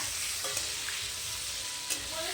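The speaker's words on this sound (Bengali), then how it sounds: "দেখো বন্ধুরা, ডিম ভাজা হচ্ছে" Eggs frying in a pan produce a steady, close, loud sizzling hiss with a couple of brief clinks, continuous through the moment without talking.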